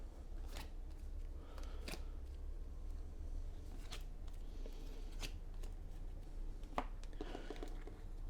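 Cards for the Honshu board game being dealt and shuffled on a table, a run of soft papery slaps and riffling flicks in an irregular rhythm, close and moderately quiet, with no talking.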